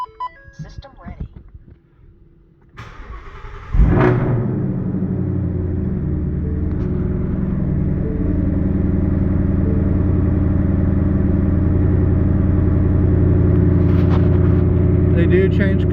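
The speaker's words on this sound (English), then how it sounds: "We'll go ahead and start the car." A car engine cranks and catches with a sudden loud burst, then settles into a steady, even idle rumble that carries on to the end, after some quiet clicking and a voice at the start.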